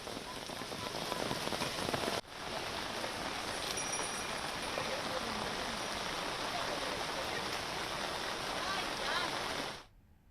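Heavy rain pours steadily onto horses covered with protective sheets, a dense, even hiss that holds for several seconds and then cuts off abruptly.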